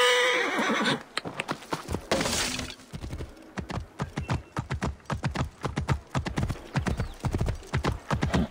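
Horse in an Assassin's Creed Origins video game, neighing near the start, then galloping with rapid, loud, close hoofbeats in a steady rhythm, heard alone.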